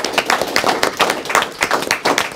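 Courtroom applause from fellow veterans in a veterans treatment court, a small group clapping in quick, close, uneven bursts over a short stretch.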